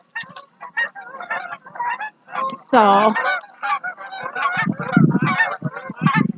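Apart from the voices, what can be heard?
geese honking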